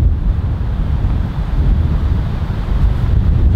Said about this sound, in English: It's amazing how strong that wind is.